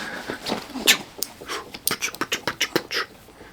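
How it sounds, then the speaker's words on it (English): A dog coming indoors whimpers and pants, high whines followed by a quick run of rhythmic breathy pants, close to the microphone. "Hold on, my dog's coming in."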